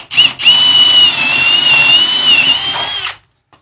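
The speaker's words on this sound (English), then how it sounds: "I'll drill my couple of holes" Two short bursts of a power drill, then one sustained high whine of the drill boring holes into a wooden gate, close and loud, ending abruptly.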